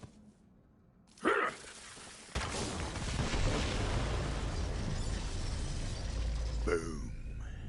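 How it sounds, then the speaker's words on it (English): A sudden loud blast in Borderlands 3 rumbles and roars, followed by a long, heavy crackling boom that trails on through a forest, with a brief sharp sound near the start. "The explosion echoed through the forest"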